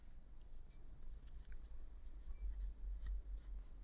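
A pen scratches faintly as numbers are written out in a class 5 maths lesson, a soft, steady scraping with no voices.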